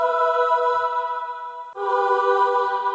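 A synthesized choir tone for a horror soundtrack holds a sustained, close, harmonically rich vowel-like chord that shifts pitch about halfway through, with no talking over it.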